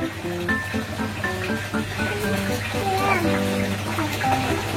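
Water splashes and trickles steadily as vegetable plants are watered in a home garden, with a voice and other voices talking over it.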